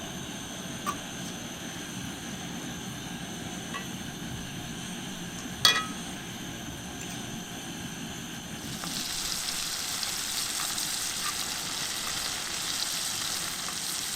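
Wild ramps, also called wild onions or leeks, frying in a pan, a steady soft sizzle with one sharp pop partway through, then a louder, brighter sizzle as the cooking intensifies.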